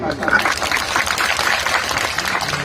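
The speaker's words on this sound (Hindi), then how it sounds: "अपने लिए जोरदार ताली" A crowd at a Hindi political rally applauds loudly for itself, a dense, steady burst of clapping lasting under three seconds, with voices mixed into the noise.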